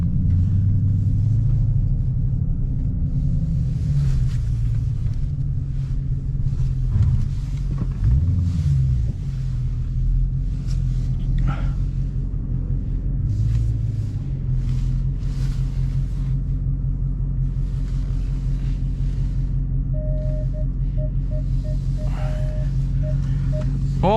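2022 Dodge Challenger Hellcat V8 backing into a parking spot, a deep continuous low rumble with a couple of brief revving swells, faint chimes and a beeping tone near the end, no talk.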